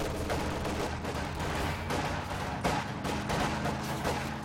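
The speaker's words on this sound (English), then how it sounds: "Mortars bombarding this position here." Mortar shells bombard a position in Company of Heroes 2 amid continuous rattling gunfire, with dull thumps and crackling shots overlapping throughout at moderate volume.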